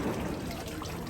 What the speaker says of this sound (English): The local watering fountain.